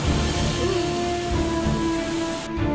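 Heavy rain pours steadily in a broad, unbroken wash of hiss and patter, loud and close, with a faint low hum running beneath it.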